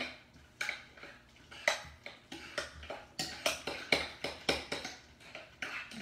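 A utensil stirs lamb kofta mixture in a bowl, giving repeated light clinks and scrapes in an irregular rhythm, close and fairly quiet, with no speech.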